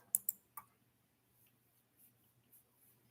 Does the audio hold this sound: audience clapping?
no